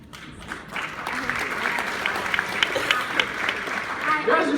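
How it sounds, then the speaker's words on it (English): A crowd claps steadily, a warm wash of applause that swells slightly toward the end. "You guys are so polite out there, clap after every answer to the question."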